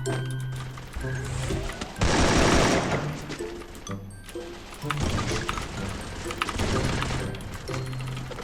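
Gunfire in the Free Fire mobile battle royale game during ranked play, with bursts of rapid shots and a loud dense volley in the middle, set against game music and effects.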